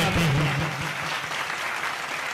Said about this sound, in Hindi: तालियां थोड़ी ढंग से बजाया करो